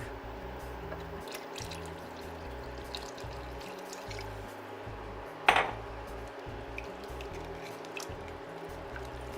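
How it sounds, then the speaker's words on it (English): Milk poured from a container into a soup pot on the stove, a steady soft liquid wash with a sharp clatter midway through and no talking. "And then I'm going to add a couple cups of milk."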